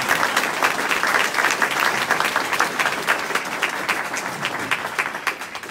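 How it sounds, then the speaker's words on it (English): An audience at a business presentation on a rail logistics park applauds a speaker, a full room of hands clapping loudly and evenly, slowly easing off toward the close. "Round of applause for Colby Tanner."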